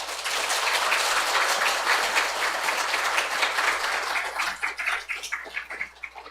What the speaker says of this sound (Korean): 우리 나올 때 큰 박수로 환영해 주시기를 부탁드립니다.